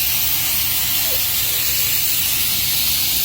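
A continuous loud hiss of a spray gun spraying filler primer onto a Lotus car body, steady and close, with no breaks or talking.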